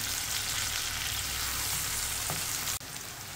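Bitter gourd frying with egg, garlic and green chillies gives a loud, steady hiss of oil sizzling close up, with one brief clack near the end and no voices.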